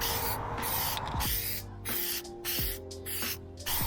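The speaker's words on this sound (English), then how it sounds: "you are now going to get your Plastidip, and then you're gonna spray." Bursts of Plasti Dip aerosol spray hissing close by, several pulses in a row with short pauses between them, over a low steady background hum.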